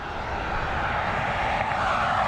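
Jet engines of an Airbus A320 roar during departure from Dublin Airport, a steady, loud broadband rush that holds constant without pauses or voices.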